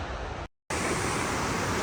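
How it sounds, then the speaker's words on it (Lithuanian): A Yosemite waterfall pours with a dense, steady broadband roar that briefly cuts out, then returns just as loud and continuous. "Dar vienas spūdingas krioklys, bet atrodo čia net sulėtintai krenta"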